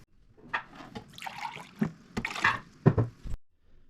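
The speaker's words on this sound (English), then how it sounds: "and we're going to add 2 cups of fresh water" Fresh water is poured into a Keurig K-Latte reservoir in several short splashing bursts with brief pauses between them, close and moderately loud.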